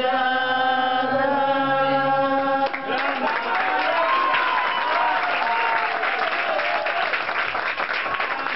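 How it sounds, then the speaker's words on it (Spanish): Enthusiastic audience applause breaks out as the last sustained notes of a sung ballad fade. It becomes a dense, loud wash of clapping with scattered cheers that continues steadily to the end. "Fuerte el aplauso, María."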